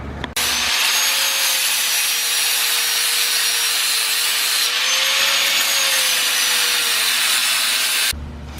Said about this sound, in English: So I gotta grind this down just a little bit right here.